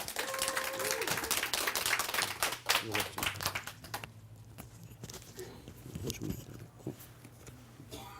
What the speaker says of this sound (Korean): 우리 권용섭 화백님을 박수로 맞이해 주시면 고맙겠습니다